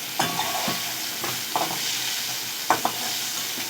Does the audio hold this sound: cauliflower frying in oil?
yes